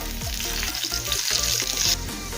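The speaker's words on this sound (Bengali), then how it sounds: "রসুন আর কাঁচা লঙ্কাটা ভেজে নিয়েছি, তুলে নেব।" Garlic cloves and green chillies fry in hot oil for a pumpkin bharta, with a continuous close sizzle and light stirring scrapes throughout, and no talking.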